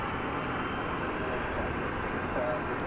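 An American Airlines jet roars on runway 18 left at DFW airport, a loud, steady broadband engine rumble that holds without pause, with a voice speaking over it.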